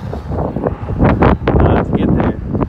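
On a cold, windy morning outdoors before a half marathon, wind buffets the microphone in loud, uneven rumbling gusts that surge and drop over a few seconds, with no talk over it.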